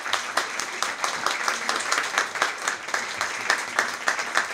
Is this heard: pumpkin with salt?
no